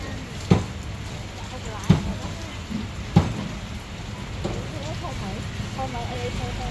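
Steady rain falls over an open vegetable market, a constant hiss with a few sharp knocks or thuds standing out, while people talk nearby.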